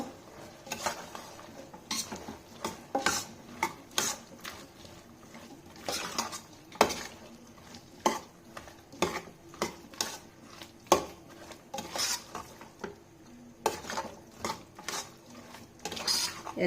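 Biryani masala powder frying in a pan for potato capsicum rice, stirred with a spoon that scrapes and clinks the pan in quick, irregular strokes, close up over a faint sizzle, with no voices.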